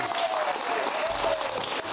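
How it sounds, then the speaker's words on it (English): A studio audience on the Free Speech Nation talk show gives a loud, sustained round of applause for guest Kelly Jay Keen, with a faint tone and some voice underneath. "ladies and gentlemen, please, massive round of applause"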